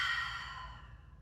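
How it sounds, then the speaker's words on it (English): Slow exhale through the mouth during a seated yoga practice, a soft breathy rush that starts strong and tapers off over about a second, close and alone with no talking. "And exhale through the mouth."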